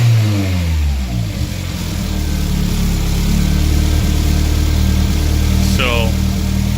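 A Toyota MR2 engine fitted with a BEAMS intake from a VVTI 2JZ revs up and settles to a steady idle with a strong induction drone, close and loud, while a person talks over it.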